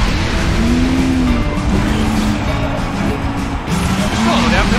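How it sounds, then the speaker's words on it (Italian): Race cars in the Cars 2 video game, Buckingham Sprint battle race, drone along in a loud, steady engine roar with brief tyre squeals, while animated voices talk over the top throughout. "Sono le altre macchine da corsa!"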